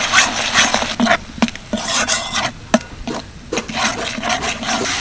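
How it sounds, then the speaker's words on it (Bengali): Ground spices with about three spoons of whisked sour yogurt, salt and garam masala fry in hot oil in a pan for a soybean and chana dal dish, with steady sizzling broken by repeated scraping stirs of a spoon. "এবার মশলাটা ভালো করে কষিয়ে নেব।"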